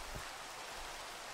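Steady, faint rain falls in a dark zombie video game, a soft even hiss with no distinct drops standing out and no talking.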